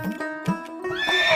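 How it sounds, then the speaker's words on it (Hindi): A horse neighs in a stable with a shrill, quavering whinny that climbs and holds near the end, fairly close, preceded by a few short snorting grunts. "बाबा और खड़क सिंह दोनों अस्तबल में पहुंचे। बाबा ने घोड़ा दिखाया घमंड से।"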